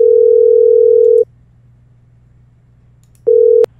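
A steady telephone ringback tone sounds during an outgoing callback to a recruiting office. It is loud and clear, beeping once for about a second, then silence, then a second shorter beep, with no talk.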